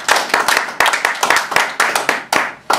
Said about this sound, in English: Then a round of applause, please.